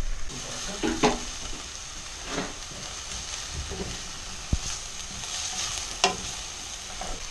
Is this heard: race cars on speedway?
no